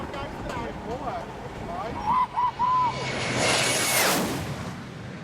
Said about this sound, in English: The plane took off and blew away everything at the picnic spot.